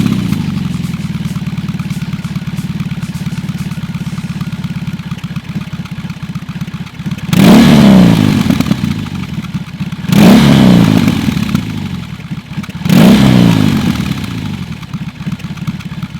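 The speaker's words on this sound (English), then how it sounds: "A lot of people don't really like the sound of boxer engines." A BMW R18 Roctane boxer-engine motorcycle idles with a low, uneven throb, then revs sharply three times. Each rev is a loud burst that quickly falls back to idle, spaced a few seconds apart.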